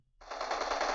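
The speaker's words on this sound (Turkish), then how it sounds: "silah sesi duyuyorum arka tarafından." In PUBG Mobile, a sudden burst of rapid automatic gunfire kicks in after a brief silence and rattles on loudly and continuously to the end.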